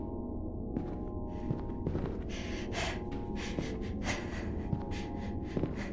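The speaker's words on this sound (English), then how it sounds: "Why is it breathing like that?" Eerie breathing from a mannequin in a horror game set in a mannequin house, a series of heavy gasping and sharp breathy inhales and snorts that repeat irregularly over a faint low hum.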